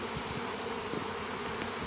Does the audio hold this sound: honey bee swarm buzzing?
yes